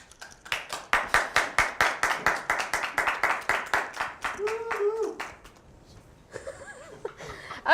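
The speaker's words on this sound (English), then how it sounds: "Let's give her a round of applause." A small audience claps in quick, regular rhythm for about four seconds, close and crisp, then tapers off into laughter and voices.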